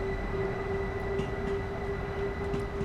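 Steady, loud rumble of a moving train on the line out of Brighton toward Eastbourne, with a constant droning tone and faint rail clatter throughout, no voices.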